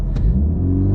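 A VW Golf R Mk8 engine rumbling loud and near in a brief burst of revving during an attempted launch-mode start, deep and steady for about a second.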